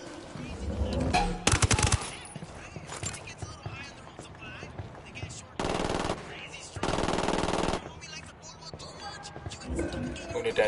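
Bursts of rapid machine-gun fire in a video game shooting at cartel enemies, with several loud sustained volleys and shorter shots separated by quieter gaps.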